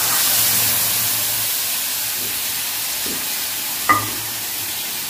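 Moong dal hits a hot pan in a home kitchen, giving a steady loud frying hiss and sizzle throughout, with a brief sharp clatter near the end.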